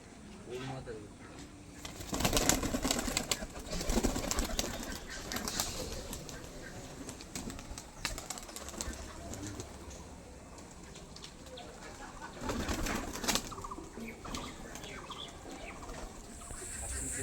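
Pigeons are released from the hand and flap off in two loud bursts of wing beats, with soft cooing and a voice talking underneath.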